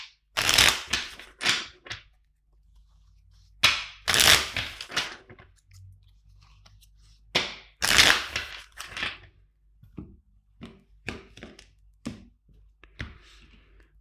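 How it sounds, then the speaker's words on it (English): Tarot cards riffled and shuffled repeatedly in quick crisp bursts, close up, with brief pauses and soft tapping between rounds. "let's shuffle three more times"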